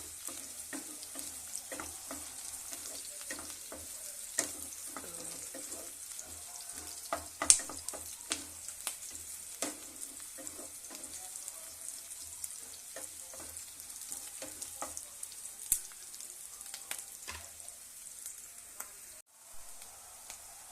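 Masala sizzles and roasts in a hot pan while rice is being made. A steady bright hiss of frying runs throughout, with scattered crackles and pops and occasional stirring scrapes, close and fairly quiet.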